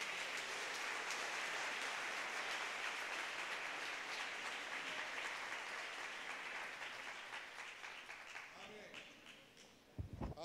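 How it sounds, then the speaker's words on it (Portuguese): A church congregation gives another round of applause during a sermon, a loud, dense clapping that slowly tapers off toward the end before a few louder sounds close it out. "Dá uma salva de palmas de novo"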